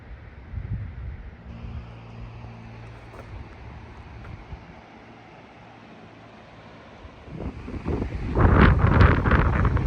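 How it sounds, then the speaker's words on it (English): Wind rumbles and buffets the microphone outdoors, gusting steadily, then roaring louder in strong blasts toward the end. "Windy up here"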